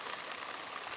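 Steady rain falling outdoors during open-air cooking of black pomfret fish wrapped in banana leaf, a continuous soft hiss of drops hitting surfaces with no voices.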